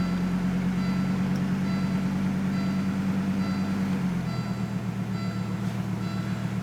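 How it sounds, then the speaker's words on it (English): A Volvo 850 GLT engine idles with a steady low hum and a faint miss. The pitch drops slightly partway through as the revs settle, and a few thin tones sound above it. "I'll let off the gas and see where it idles"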